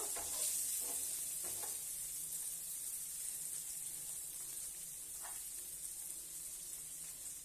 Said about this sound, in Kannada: ರೋಸ್ಟ್ ಆಗ್ತಿದೆ ಫ್ರೈ ಆಗ್ತಿದೆ ಈ ಥರ